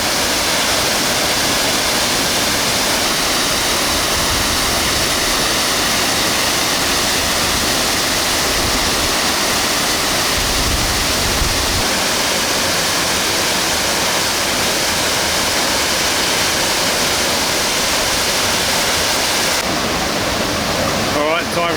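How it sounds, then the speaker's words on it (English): A powerful waterfall roars continuously, a dense, loud rushing wash of water that fills the whole scene without pause. "pretty spectacular waterfall"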